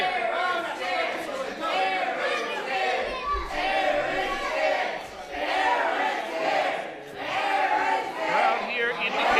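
A wrestling crowd jeers and shouts at Aaron Neal in waves of loud, rowdy voices, swelling and dipping across the whole stretch, with a commentator speaking over the noise.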